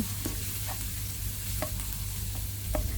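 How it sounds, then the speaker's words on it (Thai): Steady sizzling of coarsely chopped garlic stir-frying in hot vegetable oil, with a few soft scraping clicks from stirring, close and continuous. "ผัดจนกระทั่งกระเทียมเหลืองหอม"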